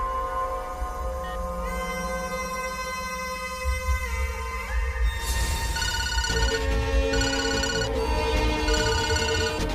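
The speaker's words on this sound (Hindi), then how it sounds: "शाह तुझे फोन करेगा।" Phone ringing with an incoming call, a sustained electronic ringtone melody with layered tones that shifts pattern midway, loud and close, with no talk over it.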